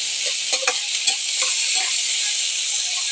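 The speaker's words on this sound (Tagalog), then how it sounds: "Kaya natin maluto yung sili para lumabas yung anghang niya" Chili peppers stirred and frying in a hot pan, a steady close sizzle with a few scraping stirs near the start, no voices.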